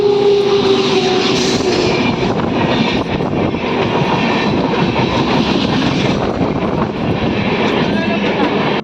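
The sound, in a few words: train moving at a railway station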